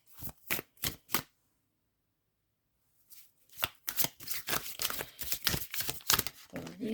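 Tarot cards being shuffled by hand, with several quick riffling bursts, a short pause, then a longer run of dense, crisp card flutters and snaps close by.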